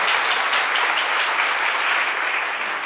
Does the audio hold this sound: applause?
yes